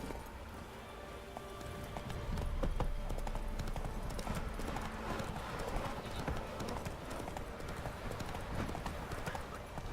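Horse hooves galloping and clip-clopping in The Witcher 3 video game, a steady fast drumming rhythm throughout under ambient game sound and music.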